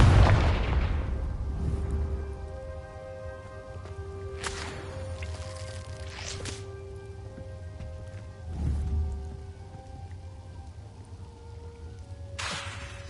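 Confringo blasting spells explode in Hogwarts Legacy gameplay, several booming blasts spaced a few seconds apart, with sharp crackling bursts over a low rumbling game backdrop and lingering tonal effects.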